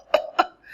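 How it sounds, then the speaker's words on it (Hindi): A woman coughs twice in quick succession, two short, sharp, close bursts about a quarter second apart, followed by a faint trailing sound. "सबको पता है ये क्या कर रही है, खांस रही हूँ."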